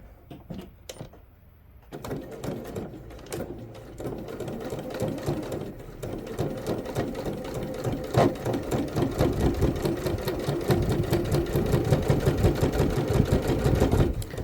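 Sewing machine top stitching through thick fabric on a book sleeve, a close, fast mechanical needle chatter that starts after a brief pause and runs steadily louder and denser.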